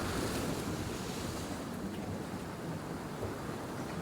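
Stormy sea waves break and wash continuously on the shore at Hopton on Sea, Great Yarmouth, a loud broadband roar mixed with gusting wind noise on the microphone, with no voices.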